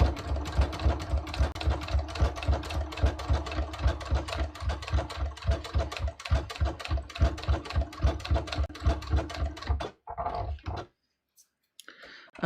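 A sewing machine runs steadily as it stitches the hem of a pair of jeans, a loud, even rhythmic chatter of rapid needle strokes that continues for about ten seconds before stopping abruptly, followed by near silence.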